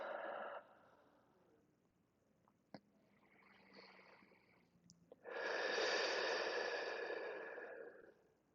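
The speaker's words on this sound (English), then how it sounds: "Big, deep, full breaths in and out" Deep, full breathing in and out during a guided stretching session: a slow inhale, quiet rustling and a brief click, then a long, loud, breathy exhale close to the microphone, with no talking.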